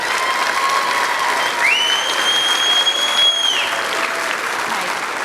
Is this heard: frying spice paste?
no